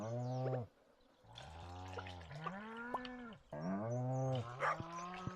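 Cattle mooing in the farming video game Stardew Valley, a few loud drawn-out moos from nearby animals, separated by brief pauses and with no talk over them.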